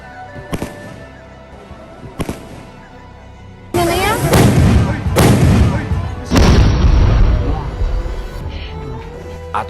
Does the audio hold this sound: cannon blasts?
yes